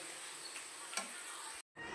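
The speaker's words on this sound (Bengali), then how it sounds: "আর কড়াইতে না অনেকটাই তেল রয়েছে, তবে এই তেলের মধ্যে এবার ভেজে নেবো" Food frying in a lot of oil in a wok, a steady close hiss and sizzle with a brief pop near the middle, then a short drop to silence before the sizzling resumes.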